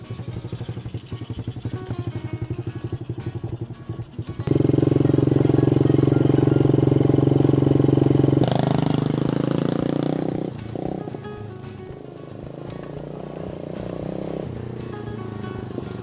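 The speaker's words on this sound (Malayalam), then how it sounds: "ഇവിടെ നമുക്ക് എ ടി വി ബൈക്ക് ഓടിക്കാനുള്ള സൗകര്യമുണ്ട്" An ATV being ridden at an agricultural farm theme park in Palakkad, Kerala, its engine rising to a loud, steady roar for several seconds before dropping back to a lower idle-like drone.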